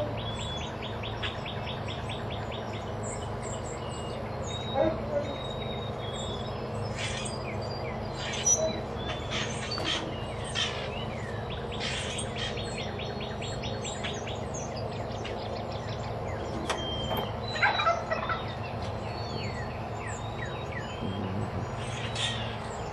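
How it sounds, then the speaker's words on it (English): Birds feeding on the ground outdoors near scattered corn keep up frequent chirps and tweets, light and somewhat distant, over a steady background hum. "Got birds on the ground over there."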